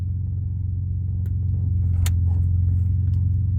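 A car engine rumbles steadily at close range as it drives up toward a campsite parking area along a rocky forest road, a low continuous drone with a couple of faint clicks and no talking.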